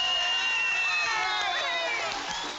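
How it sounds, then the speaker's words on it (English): Cartoon crowd applause and cheering swells continuously and loudly for a few seconds, a dense wash of clapping with excited voices mixed in, no single speaker standing out. "Can't you hear that applause?"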